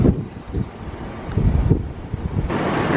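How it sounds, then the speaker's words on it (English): Strong wind buffets the microphone outdoors, a steady rough roar with gusts swelling and easing throughout, loud and close. "Oh man, it is so windy."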